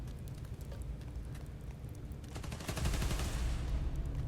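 Rapid bursts of gunfire in the video game Marvel's Spider-Man: Miles Morales crackle at a distance over a low rumble, growing denser and louder near the end.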